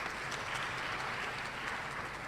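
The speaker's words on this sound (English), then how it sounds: "I'm happy you're clapping for me" An audience claps steadily for a speaker at a talk, a dense, even patter of applause that continues throughout at moderate distance.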